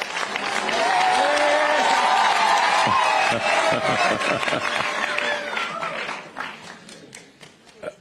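Loud, sustained applause from a crowd at a meeting with people living with disabilities, with cheering and voices mixed in, swelling for several seconds before thinning out into scattered claps.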